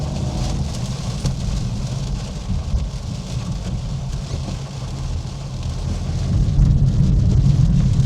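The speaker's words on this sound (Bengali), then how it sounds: "বৃষ্টিটা ভালো জোরে পেরেছে।" Heavy rain near the Kanniyakumari coast, a loud, dense, continuous roar of downpour on surfaces with a low rumble underneath, swelling slightly toward the end.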